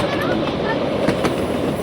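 A miniature railway train at the Burnaby Central Railway rolls steadily along its tracks at a station, a continuous close rumble with faint rail clicks and some background voices.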